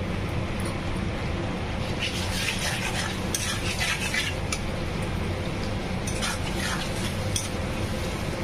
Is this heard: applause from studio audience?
no